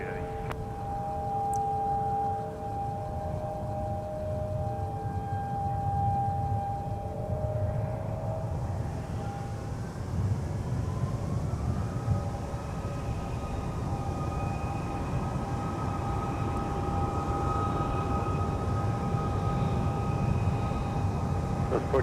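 A Delta Airbus A330-300 heavy jet takes off at Minneapolis–St. Paul airport, a distant continuous engine roar with a whine that slowly rises in pitch and holds steady.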